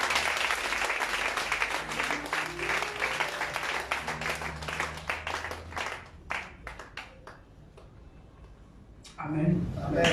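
Church congregation applauding and clapping together, a dense sustained burst of many hands that thins into scattered claps before voices return at the end.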